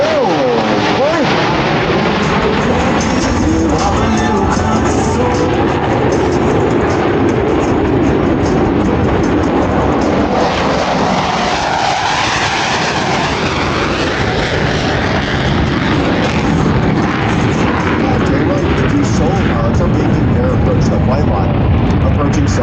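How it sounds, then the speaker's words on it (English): Blue Angels jets roar continuously through a brake turn at an air show, a loud, sustained wash of engine noise that swells and shifts as the aircraft pass, with crowd-area ambience underneath. "each pilot will perform an individual brake turn and exit the flight line in a separate direction"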